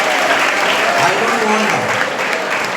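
Audience applause at a student seminar fills the room as dense, steady clapping from many hands, while someone speaks over it.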